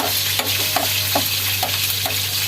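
Ginger drops into a hot pan for squid adobo and sizzles loudly and continuously, with soft rhythmic stirring scrapes repeating about every half second.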